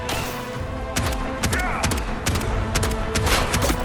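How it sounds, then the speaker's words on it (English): Shotgun blasts in the video game Bright Memory: Infinite, a series of sharp, loud booming shots at irregular intervals over dense game music and effects, with a person talking throughout. "You got your shotgun here."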